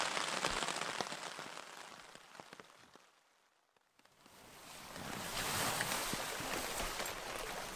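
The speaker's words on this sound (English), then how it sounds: "the rain's coming down" Steady rain patters on a surface at a campsite in the boreal forest, dense and hissing, fading to near silence briefly midway before returning at full strength.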